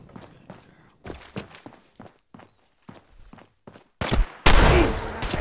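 Footsteps crunch intermittently in Fallout 4 before a minigun suddenly opens up, a loud, dense, continuous roar of rapid fire for the final second and a half.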